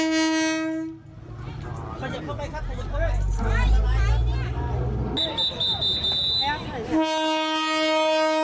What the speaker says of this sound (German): In Thailand gibt es einen Zug, der mitten durch einen Marktplatz fährt.